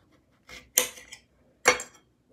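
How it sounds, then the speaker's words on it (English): A knife cutting the end off a coyote teeth chili pepper on a board, heard as two or three short, crisp clicks and snaps about a second apart, close and clear against near silence. "We're just gonna cut the end off there."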